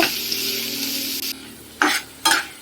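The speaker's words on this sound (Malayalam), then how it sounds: "സവാളയിലേക്ക് അല്പം ഉപ്പ് കൂടി ചേർത്തതിന് ശേഷം നന്നായിട്ട് ഇവ ഇളക്കി വരട്ടിയെടുക്കുക" Onions with salt being stirred and sautéed in a pan for a beef roast, a steady close sizzle that drops away, followed by two sharp scraping strokes of a spoon against the pan.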